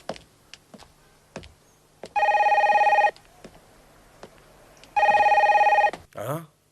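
Two long bursts of an old-style telephone bell ringing loudly and close, separated by a short pause, with faint background noises and a brief voice at the end.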